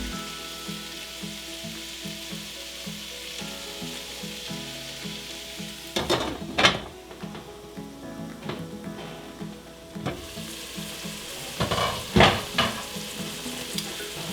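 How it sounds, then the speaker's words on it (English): A mirepoix of onions, carrots and parsnips sautés in a pan for beef barley soup, with a steady close sizzle and two bursts of louder stirring and scraping partway through. No one speaks. "the mirepoix has been cooking for another 5 minutes since I've added my carrots and my parsnips"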